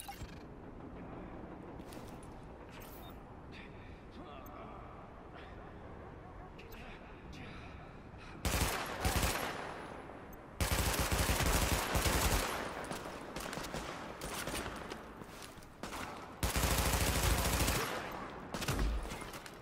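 Automatic rifle fire in The Division, coming in long, loud sustained bursts that cut in and out, with fainter scattered shots and game sounds between them and no talk over the shooting.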